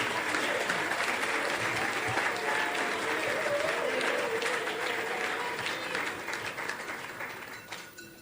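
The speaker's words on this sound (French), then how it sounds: "je vous demande d'applaudir et acclamer encore une fois très fort" An audience at a gathering applauds steadily in dense, sustained clapping with some cheering, heard from within the crowd, tapering off toward the end.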